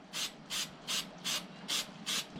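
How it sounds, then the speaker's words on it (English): A rag wipes excess dressing off a minibike tire in six regular, evenly spaced swipes. Each is a close, soft, hissing rub. "Wipe off the excess with our rag."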